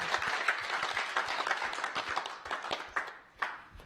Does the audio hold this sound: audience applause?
yes